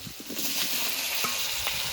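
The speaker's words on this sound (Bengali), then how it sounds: "এবার সেদ্ধ করা কচুটা দিয়ে দেবো" Boiled taro hits hot oil in a pan and fries with a steady, close sizzle, broken by a few soft stirring scrapes; no voices.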